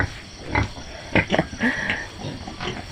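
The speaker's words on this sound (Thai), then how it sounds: "ได้ยินเสียงน้องร้องหิวนมไหม" Newborn piglets in a litter of seven squeal hungrily for milk in a farm pen, several sharp high cries bursting out at irregular moments over low grunting and background farm noise, close by.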